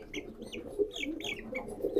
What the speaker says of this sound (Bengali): এই হচ্ছে আমাদের মুরগিগুলা।